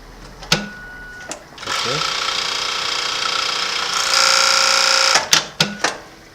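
An industrial overlock sewing machine, model MS-880EXD, stitching a three-thread overlock in a sustained whirring run of about three and a half seconds, bracketed by sharp clicks and thread-cutting snaps, with a person talking nearby.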